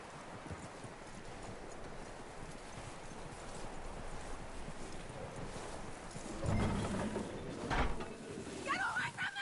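Horse hooves clip-clop steadily at a walk in Red Dead Redemption 2, fairly close and continuous, with louder thuds and rattling near the end alongside brief game sound effects.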